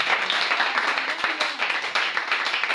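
A church congregation applauding to praise the Lord, a steady, dense wash of many hands clapping at once, loud and sustained throughout.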